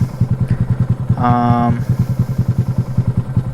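Honda Grom motorcycle engine pulsing rhythmically near at hand, with a brief revving rise under throttle partway through, as in wheelie practice; loud and up close.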